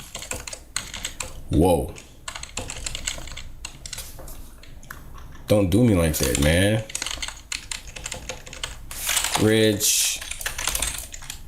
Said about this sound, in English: I don't feel like typing all that again